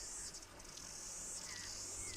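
Cicadas in the New Zealand bush beside a trout stream, a steady high buzzing drone that holds throughout at a moderate, distant level with no voices.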